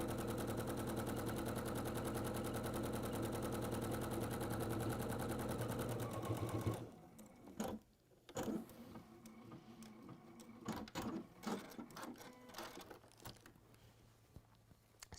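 A sewing machine stitches around fabric in a fast, steady mechanical rattle that runs loud and continuous for several seconds, then stops and gives way to quieter rustling, shuffling and handling noises.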